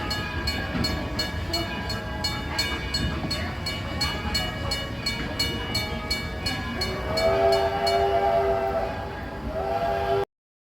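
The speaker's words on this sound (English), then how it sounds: "Welcome aboard the Greenfield Village Railroad." A Greenfield Village Railroad heritage train rumbles steadily along the rails with rhythmic clacking, and near the end a whistle sounds in a sustained tone.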